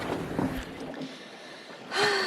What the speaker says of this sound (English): Dolphins just came and visited.